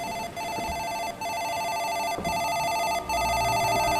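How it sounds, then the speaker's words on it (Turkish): A telephone rings continuously in a horror video game, a loud electronic trill that repeats in steady bursts with tiny breaks between them. "Yeter lan çaldırıp durma şu telefonu."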